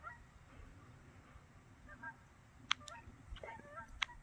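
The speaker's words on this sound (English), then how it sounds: "we've got some ducks in the background" Faint, distant duck calls, a few short honking quacks from about a quarter mile away, carry over a steady outdoor background hum at a Vermont reservoir.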